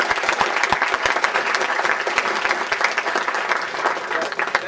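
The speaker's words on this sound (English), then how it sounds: "Let's give a big round of applause to Mr." An audience at an evening university building showcase applauds, a dense crackle of many hands with sharp individual claps near the front, sustained and fairly loud throughout.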